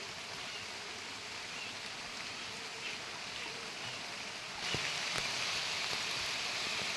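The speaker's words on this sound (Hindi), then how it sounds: "देखिए पानी गिरने लगा है।" Rain falls under a tree in rural Madhya Pradesh, a steady soft hiss that swells louder about two-thirds through, with a few distinct drops tapping nearby.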